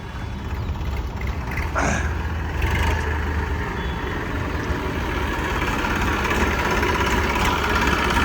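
A Massey Ferguson tractor in showroom condition idles nearby, giving a steady low diesel rumble that holds an even level throughout, with no speech over it.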